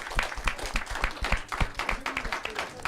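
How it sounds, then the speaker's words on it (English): Applause at a women in arts conference panel, a handful of distinct, spaced claps from a few people, fairly close, with faint room noise between them. "Why am I applauding myself?"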